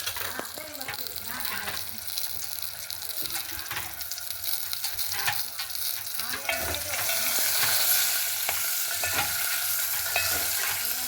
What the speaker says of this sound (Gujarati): સરસ મજાના મરચાં વધારી નાખ્યા